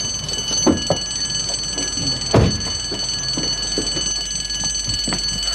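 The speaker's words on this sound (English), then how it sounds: "Sarah, if we could switch the alarm off first, please" A building alarm sounds a steady, continuous electronic ringing tone throughout, fairly loud, with a few dull knocks and thumps in the room beneath it and no talking.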